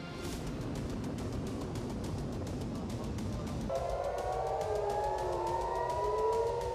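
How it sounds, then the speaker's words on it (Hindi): Air raid sirens wail in Tel Aviv during an Iranian missile attack, rising and falling tones over steady background rumble and clatter, fairly distant. "तेल अवीव में सायरन बज रहे हैं।"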